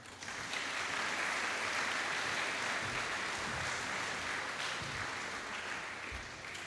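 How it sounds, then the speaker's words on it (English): At a fire service trainee graduation ceremony, the audience applauds the Hampshire Fire Authority chairman, a steady wash of many hands clapping throughout, moderately distant and even in level. "So if you would please give a round of applause for the Chairman of Hampshire Fire Authority"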